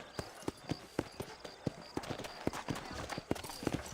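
Hooves of a horse clip-clopping in Red Dead Redemption, a sharp, regular trotting beat of crisp knocks over about four seconds, fairly close with faint background sound.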